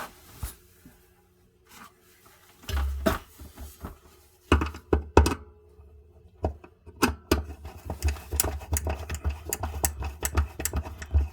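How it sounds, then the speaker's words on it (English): A screwdriver tightens the screws of an electrical outlet box against drywall: a string of sharp, close clicks and knocks, sparse at first and then quicker and more regular, with no talking. "So now we just need to grab our screwdriver and tighten up those nuts, those screws."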